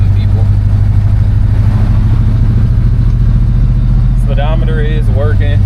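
Rumbling V8 of a 1971 Oldsmobile Cutlass with a 350 engine while driving, a steady loud low drone inside the car with someone talking over it toward the end.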